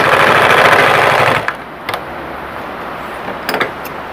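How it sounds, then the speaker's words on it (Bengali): A sewing machine stitches fabric in a steady, loud mechanical whir for about a second and a half, then stops, leaving only a few faint clicks and taps. "আমি আরো একটু সেলাই করে দেখাই বড় করে।"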